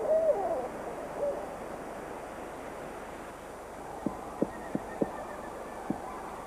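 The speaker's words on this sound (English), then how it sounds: "the owl tries to look and sound as imposing as it can" Barred owl hoots early, a low wavering call with a shorter follow-up. A run of sharp woodpecker taps comes later, likely a pileated woodpecker chiselling its nest hole. Everything sits over a quiet outdoor forest background.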